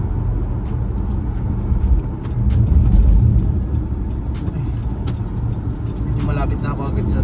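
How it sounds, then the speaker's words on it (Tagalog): Busy road traffic heard from a moving vehicle, with a continuous engine and road roar, passing cars swelling and fading, and a brief air-brake hiss near the end. "Yun, ang dami sasakyan ngayon."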